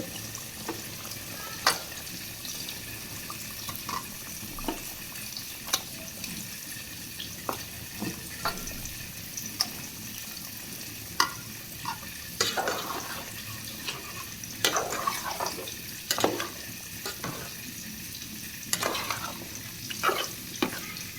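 Fish frying in a pan, a steady low sizzle running throughout with frequent sharp clicks and scrapes of stirring, close by and fairly quiet.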